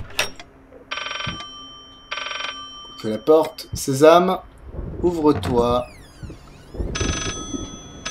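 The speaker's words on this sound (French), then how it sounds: "c'est le téléphone du président" A telephone rings in the video game Layers of Fear, with several short electronic ring bursts spaced apart. Someone talks loudly in between and over them.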